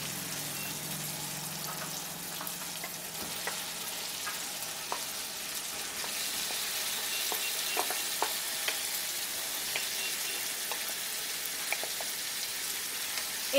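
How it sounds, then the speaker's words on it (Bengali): Marinated chicken goes into fried spice paste for a home-style chicken curry, giving a quiet, steady sizzle with scattered crackles that grow busier partway through, with no talking. "এখন আমি এর মধ্যে ম্যারিনেট করে রাখা চিকেনটা দিয়ে দিচ্ছি।"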